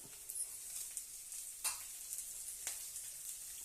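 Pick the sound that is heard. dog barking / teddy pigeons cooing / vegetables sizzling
vegetables sizzling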